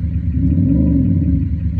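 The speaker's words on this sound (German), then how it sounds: "sodass der Motor einmal kurz aufheult" A car engine, simulated by an Active Sound app, briefly revving with a steady, loud low rumble that swells and settles over about two seconds, with no talk.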